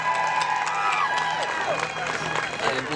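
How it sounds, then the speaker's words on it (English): Women in the crowd at a pro-choice rally clap with some cheering, a steady, moderately loud wash of applause from a large gathering, with voices talking over it. "Can all the women, all the ladies clap for them?"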